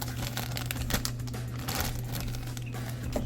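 Plastic bags around dinosaur toy figures crinkle and rustle up close in quick, irregular bursts as they are unwrapped, with a low steady hum in the background.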